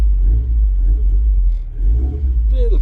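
Ford Cortina P100 pickup engine, cold after sitting seven months, rumbling under light throttle with choke: a loud, deep, slightly uneven low-pitched drone that dips briefly midway, with a faint voice near the end.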